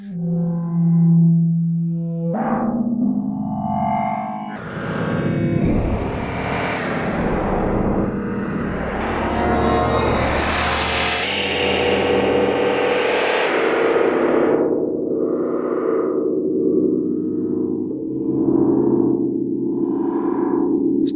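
Make Noise Erbe-Verb modular reverb modulated by an LFO, producing eerie, demonic tones: wavering, pitch-shifting drones and swelling smeared textures that rise into a dense, bright wash before settling into pulsing echoing tones.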